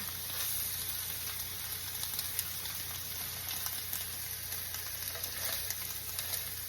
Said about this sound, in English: I'm just going to take the steak up off the thing and put it into that oil